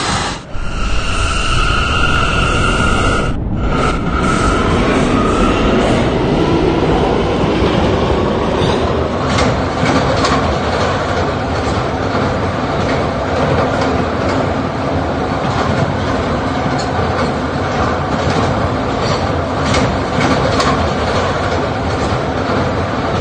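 An R179 K subway train running on New York rails, a loud steady rumble with rhythmic wheel clatter and a brief high squeal at the start, heard from inside the car.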